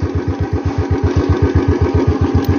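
Off-road motorcycle engine running close by with a steady, fast low thumping pulse that holds even throughout, with no voices over it.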